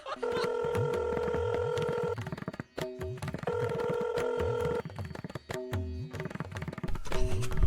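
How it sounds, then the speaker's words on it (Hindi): Repeated electronic telephone tones sound in several steady bursts separated by short pauses as a call is placed to a doctor, with voices and shuffling mixed in. "डॉक्टर का फोन लगा।"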